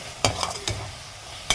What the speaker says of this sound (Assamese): ভালদৰে মিক্স কৰি এইখিনি 10 মিনিটমানৰ কাৰণে ভাজি লওঁ